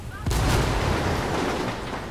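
A heavy, booming mortar blast in the video game Ghost Recon Wildlands hits suddenly and rolls into a long rumbling decay, loud and close.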